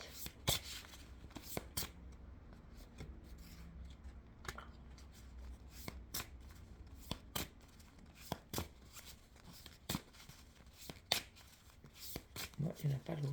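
Playing cards are handled and drawn from a deck, giving a series of quiet, sharp snaps and flicks at irregular intervals, with a person speaking softly between them.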